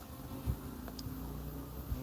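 Honey bees hum around an open backyard beehive, a continuous close drone with a few brief louder buzzes as individual bees pass near.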